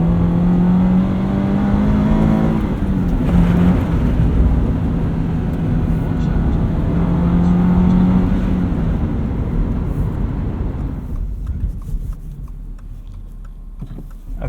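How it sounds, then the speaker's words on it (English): A Subaru BRZ on Excise snow tires pulls along a snowy road, its engine a steady broadband drone with a rising tone that holds loud throughout, easing slightly toward the end; a voice may murmur faintly underneath. "This has been so impressive for a first drive in this BRZ."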